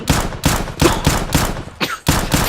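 Rapid bursts of gunfire in a video game, sharp loud shots in a quick even rhythm, about nine in all with a short gap near the end, close and alone without talk.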